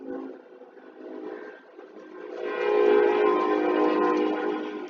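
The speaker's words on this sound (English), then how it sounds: "if you're hearing any noise in the background now, that is the train." A train passes in the background, a continuous rumbling roar with horn-like tonal layers that grows louder and fuller about halfway through and holds steady, with no talking.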